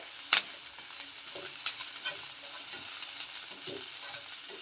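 Onions frying in a pan for mushroom gravy, a faint, steady sizzle with occasional soft stirring scrapes and a sharp clink near the start.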